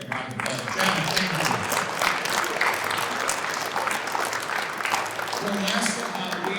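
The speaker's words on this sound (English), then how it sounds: "So please give her a great round of applause." An audience at an ocean and atmosphere open-house presentation breaks into sustained, dense applause that holds steady throughout, with no voice standing out over the clapping.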